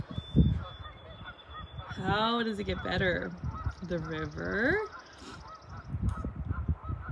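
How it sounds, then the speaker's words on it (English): Geese or ducks honk repeatedly nearby in a lively, overlapping chorus by a river, while a person speaks briefly over outdoor background noise. "I don't know if you guys can hear the birds and the ducks in the background"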